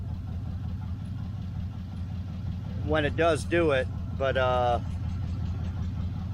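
A 1968 Chevelle Nomad engine runs steadily at idle with a loose exhaust clamp, giving a low, even rumble throughout while someone talks over it in the middle.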